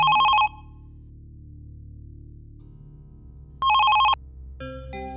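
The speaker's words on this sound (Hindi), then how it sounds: "कोई टेलीफोन भी नहीं उठा रहा," A telephone rings in two short electronic bursts separated by a few seconds of quiet hum, with no one picking up; brief beeps follow at the end.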